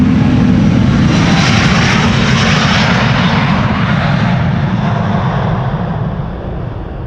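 Loud, close jet airliner departing Amsterdam Schiphol Airport, a powerful broadband engine roar that holds steady and then slowly fades as the plane climbs away.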